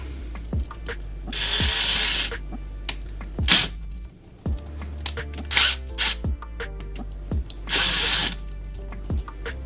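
A part on a spray paint bottle rig is tightened back up with a hand tool, giving loud close bursts of ratcheting and rattling clicks separated by short pauses.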